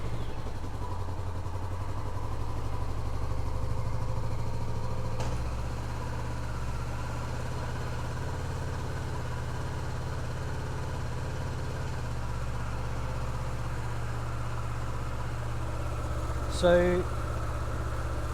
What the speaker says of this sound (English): actually turning your bike on and putting it in a gear and letting the tire rotate on its own